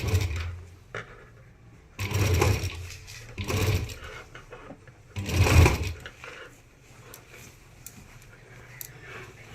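A sewing machine stitches across waste cloth in several loud bursts of rapid mechanical whirring, separated by quieter pauses with small clicks and handling noises, close by and with no speech.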